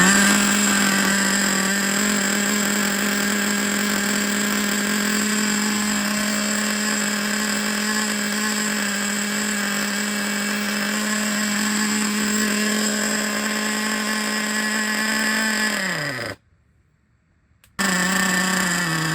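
Nitro engine of a used Traxxas Revo 3.3 RC truck running with an air leak, a steady buzzing drone with a high harmonic whine that cuts out abruptly near the end, then resumes after a brief silence.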